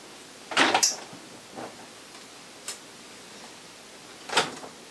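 A motorhome refrigerator door opens and closes with a couple of soft thuds and clicks, separated by quiet pauses.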